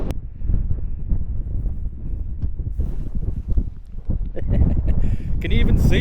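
Strong wind blows outdoors at a campsite, rough gusting roar hitting the microphone and building louder toward the end, with a person talking over it.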